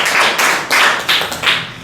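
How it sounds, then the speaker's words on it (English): A classroom of students claps for a classmate during a school lesson, a short burst of close, bright hand claps swelling in a few rhythmic waves. "big clap for Rafid"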